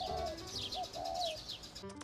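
Small birds chirp and tweet continuously on a balcony, with overlapping high calls and a few coo-like notes from a pigeon or dove, moderately close and steady throughout.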